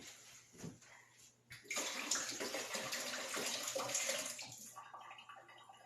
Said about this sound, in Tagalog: ito po ay tatapon natin yung tubig